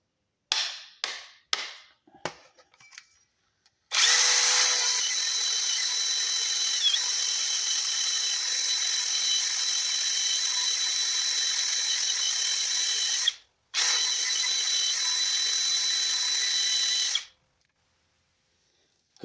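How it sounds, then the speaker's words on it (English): A wire wheel on a power drill cleans the front brake rotor of a 2014 Kia Forte EX. A few sharp clicks come first, then a loud, steady high whine runs for about nine seconds. It stops briefly, spins again, then cuts off. "Now you're going to get your wire wheel and you're going to clean."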